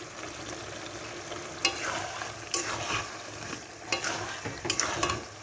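Bottle gourd curry with fried shrimp sizzles in a pan as a spatula stirs it, giving a soft continuous frying hiss broken by several sharp scraping strokes, close up with no voices.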